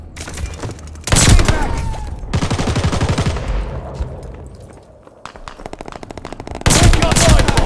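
Hipfired Owen submachine gun in a video game, loud rapid automatic bursts crackling in several long volleys with short pauses between, close and dominant over faint game effects.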